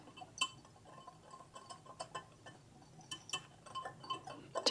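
Dry chicken salt seasoning with ground celery seeds is mixed in a small container, giving quiet irregular clinks and ticks of a utensil against glass, close and faint.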